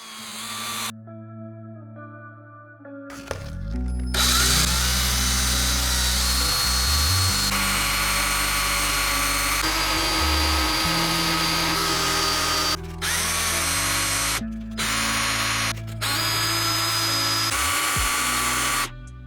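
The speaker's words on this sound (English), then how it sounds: "chuck some of these pieces up in a drill and then spin them and clean them" A power drill whirs steadily at high speed, spinning old hand plane parts against a wire brush with a grinding, scraping rasp, pausing briefly a few times before spinning up again.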